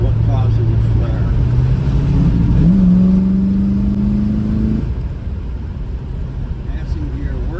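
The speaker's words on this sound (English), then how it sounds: "Manual shift to third. And flare into third." A V8 Ford Falcon engine revs as an automatic transmission is shifted manually into third, its pitch climbing then flaring higher before dropping away, loud and near, with someone talking over it.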